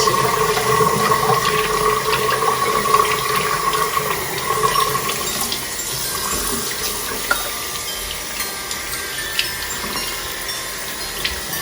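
Water runs steadily from a tap, rinsing out a home bathroom washbasin with a continuous close splashing gush and no voices.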